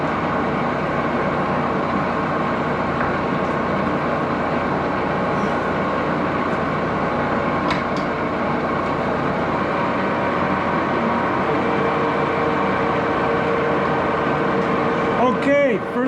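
Antique automotive generator spinning at 264 RPM on a service setup, with a steady, even mechanical hum and whir that holds at a constant level throughout, ending with a faint click.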